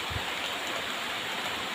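Steady rain falling around a house, a dense even hiss that stays constant and fairly soft throughout, with no voices.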